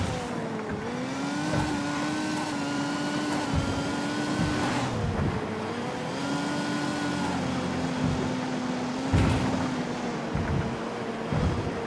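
Vehicle driven in Ghost Recon Wildlands, a continuous engine drone whose pitch rises and falls with gear shifts, with rushing wind-like noise and a few thumps, steady and fairly loud with no talk.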